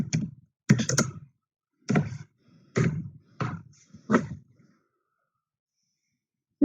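Someone types C++ code on a computer keyboard, in a handful of separate bursts of clicking keystrokes with quiet gaps between them. The last burst ends and silence follows.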